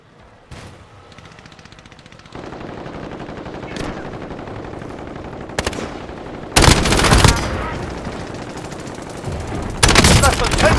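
Enemy gunfire in an online battle video game: bursts of automatic weapon fire and sharp single shots crackle near and loud, intensifying into dense rattling volleys late on over a constant background din.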